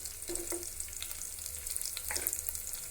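Sliced large onion sautéing in a pan after a tempering, a soft close sizzle with a few stirring scrapes and clinks over about three seconds, fairly quiet and without voices.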